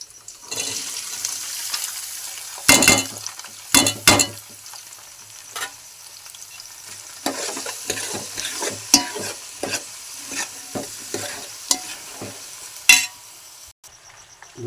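Ivy gourd pieces sizzle in hot oil with onions in a pan, a soft steady frying hiss broken by sharp scrapes and clanks of a spoon stirring, close by and without talk.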